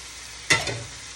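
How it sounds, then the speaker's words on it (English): A chipotle meal in a pan gives a short burst of sizzling and stirring, close and fairly loud, over a steady low frying hiss. "I'm gonna leave this alone. Let it just simmer."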